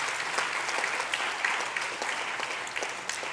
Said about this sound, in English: So I want you to give him a round of applause.